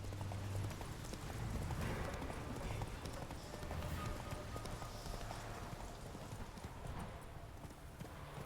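Hooves of Roach, the horse in The Witcher 3, pound in a steady galloping clip-clop under a continuous rumble of game ambience, loud and close, with a faint neigh possible and occasional voice.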